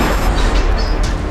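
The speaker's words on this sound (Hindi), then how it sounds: "अभी अभी गोली चलने की आवाज आई है गाड़ी के अंदर से।" A single gunshot fired inside a stopped car during a police blockade, heard as a loud, booming crack that fills the moment with dense low-end rumble and no talk over it.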